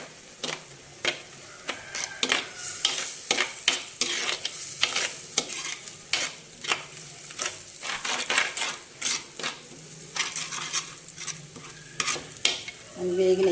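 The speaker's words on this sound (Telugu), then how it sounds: "అల్లం వెల్లుల్లి పేస్ట్ వేసుకుందాం ఒక స్పూను. ఈ అల్లం వెల్లుల్లి పేస్ట్ కూడా కొంచెం వేగాలి." Ginger garlic paste frying with onions in a pan for a tomato egg curry, with a soft sizzle under repeated clicks and scrapes of a spoon stirring against the metal.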